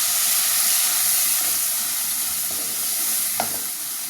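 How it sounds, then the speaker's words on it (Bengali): Prawns fry in hot oil with onion, garlic and spices, giving a loud, continuous sizzling hiss close by, with a brief spatter near the end and no talking. "আমি কয়েকটা চিংড়ি মাছ ছেলের জন্য ভাজা করতেছি"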